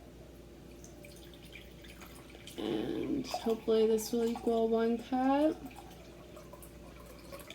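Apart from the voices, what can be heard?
pouring water from a Topo Chico bottle into measuring cup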